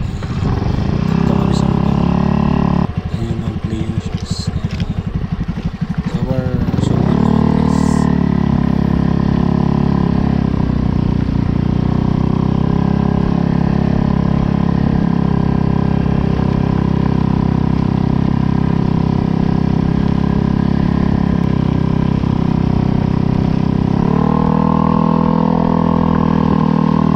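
A Yamaha Mio Gravis motorcycle engine runs continuously and loudly close by, with a steady idling rumble and slight shifts in pitch. Voices speak faintly under it.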